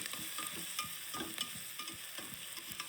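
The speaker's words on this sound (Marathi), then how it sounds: "नंतर यात आलं लसूण चेचून टाकायचं आहे." Crushed ginger and garlic frying in a pan, a soft steady sizzle under repeated scraping and stirring strokes, fairly quiet, with no talking.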